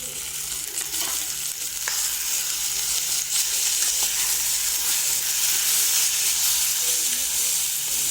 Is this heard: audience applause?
no